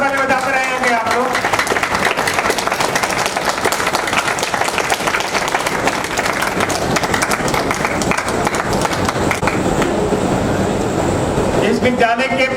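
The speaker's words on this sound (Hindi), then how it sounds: "तालियां जोरदार तालियां बजाते रहेंगे आप लोग।" Sustained applause from an audience at an Independence Day ceremony at a school for blind students, a dense steady clatter of many hands running the whole time with voices mixed in, fading slightly near the end.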